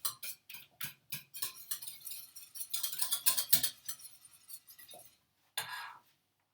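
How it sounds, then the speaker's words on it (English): A spoon scrapes and clinks against a pan while a thickening shrimp bitterballen mixture is stirred, giving soft, irregular strokes in quick bursts with a short pause near the end. "Keep on stirring this. It's getting thicker and thicker."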